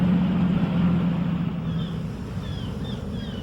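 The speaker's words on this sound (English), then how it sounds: "Sounds like an engine" A tugboat engine rumbles low and steady in a children's animated harbour story, a continuous grumbling drone heard alone at moderate loudness throughout.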